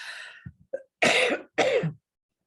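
A person coughs a few times close by, starting with a throat-clearing rasp followed by two harsh, forceful coughs.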